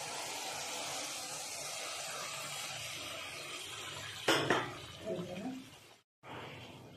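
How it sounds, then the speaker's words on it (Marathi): Hot water is poured from a separate pot into a sprouted moth bean curry that is sizzling on the stove. A soft, steady sizzle is cut by a sudden loud splash and bubbling burst, then a brief drop to silence. "तेच गरम पाणी ह्या भाजीमध्ये ओतायचं आहे।"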